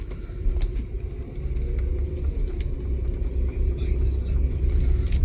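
A 2011 Saab 9-5 rolls along on a short drive, giving a continuous low road rumble and engine drone heard from inside, with a few faint clicks and taps over it.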